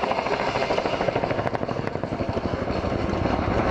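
A Chinook twin-rotor helicopter doing a 270-degree quick stop at the Biggin Hill air show, its heavy rhythmic rotor thudding loud and continuous over a broad roaring wash.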